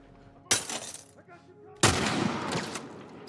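Two loud gunshots from The Last of Us Part I, a sharp crack at the start and a second heavier blast with a longer noisy tail, echoing in a game setting.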